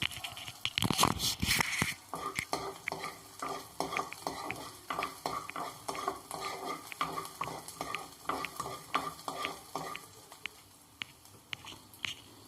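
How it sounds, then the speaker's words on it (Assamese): Garlic fries in a pan for an Assamese-style jolokia chili pickle, with a soft background sizzle under repeated close scraping and stirring clatter of a utensil against the pan. "নহৰুকেইটা মই ফ্ৰাই কৰিছোঁ।"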